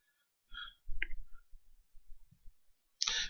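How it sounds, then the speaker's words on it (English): Typing on a computer keyboard gives scattered soft clicks and taps, a few quick keystrokes then a pause and a final louder burst, close and fairly quiet with no talking. "Sorry, I'm just typing."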